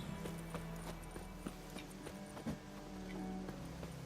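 Horse hooves clip-clop in The Witcher 3 video game, a steady walking rhythm of soft hoofbeats over a constant low game ambience.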